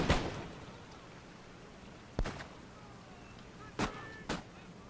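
Cannon fire in the video game Empire: Total War, several sharp distant booms spaced a second or two apart over a low battlefield ambience.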